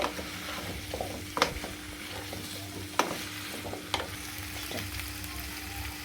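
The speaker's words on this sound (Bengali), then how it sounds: "এবার আমি এর মধ্যে কুমড়োটাকে দিয়ে দেব। ভালো করে নেড়ে নেব, একটু কষিয়ে নেব।" Pumpkin sizzles and fries in a pan for a vegetarian pumpkin-potato dish, with a steady hiss and a few sharp spoon scrapes and clinks against the metal as it is stirred.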